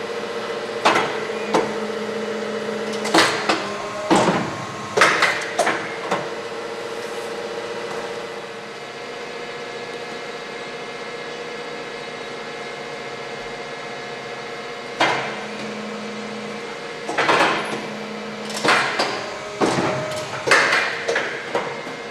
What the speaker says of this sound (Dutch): dan gaan we het boekje snijden. Aan de onderkant, aan de bovenkant en aan de zijkant.